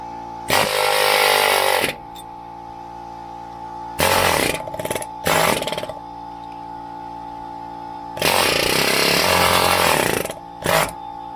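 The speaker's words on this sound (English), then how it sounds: "we're gonna actually continue drilling out the bushing and then try to push it out" A drill bores out a tight bushing in three loud whining bursts separated by pauses, with a steady hum running underneath throughout, close by.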